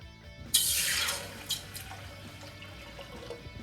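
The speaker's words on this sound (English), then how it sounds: "So let's add the water." Water gushes into a cooking pot for drumstick rasam soup with a bright splashing rush that quickly tapers off, followed by a few small drips and splashes.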